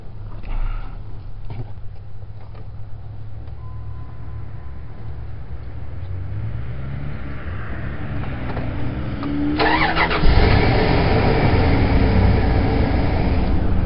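A 13-year-old Dodge V8 car engine cranks and fires up near the end, settling into a loud, rumbling idle after a quieter stretch of background noise.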